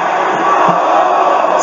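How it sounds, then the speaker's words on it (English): A wrestling arena crowd at NXT TakeOver Dallas roars in a brief, loud, dense burst of cheering. "This crowd is electric tonight!"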